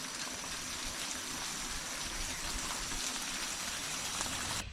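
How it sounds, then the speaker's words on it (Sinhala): A small stream runs across a hiking trail in the Sri Lankan hills on the Galaha to Loolkandura stage, giving a steady, close, broadband wash of flowing water that holds even throughout, with no talk. "මෙන්න මේ දිහාවෙන් තමයි ඒ දිය පාර පහළට ගලාගෙන එන්නේ"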